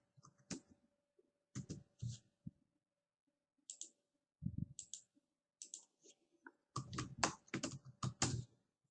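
Someone types Microsoft Word on a computer keyboard, producing short, quiet bursts of close key clicks separated by pauses, with a quicker flurry near the end.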